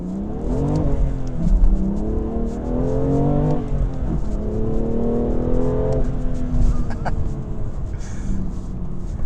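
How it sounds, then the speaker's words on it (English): A BMW M2 Competition's exhaust rises and falls through repeated revs and gear changes, a steady loud engine drone heard from inside the car, with no talking. "You hear some really good exhaust noises."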